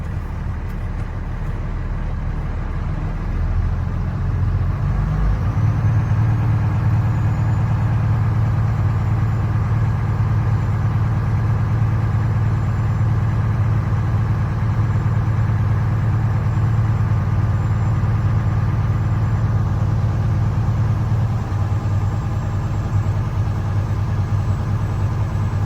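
A Class B truck's diesel engine idles steadily to build air brake pressure before an air brake check, a loud, continuous low rumble that settles after the first few seconds and holds throughout without talk.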